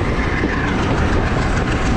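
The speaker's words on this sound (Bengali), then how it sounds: "ট্রেন ছেড়ে দিয়েছে তার পরবর্তী যাত্রা বিরতি আমদুরার উদ্দেশ্যে" A Rajshahi commuter train departs Nachol station and rumbles along with a continuous, dense roar and faint rhythmic clatter of wheels, loud and close throughout.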